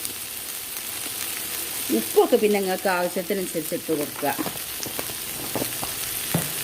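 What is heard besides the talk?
okra (lady's finger) frying in a pan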